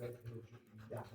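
A dog pants in short, breathy bursts near the listener, with faint whimpery sounds mixed in and some speech-like noise underneath.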